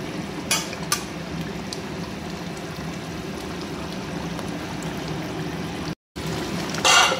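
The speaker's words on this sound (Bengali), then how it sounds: "মাছটা দিয়ে একটু নেড়ে নেব। সেটা কিছুক্ষণ ফুটবে" Fish curry being stirred and simmering in a pot, a soft continuous bubbling hiss with a few spoon knocks near the start and a brief louder scrape at the end, no talk.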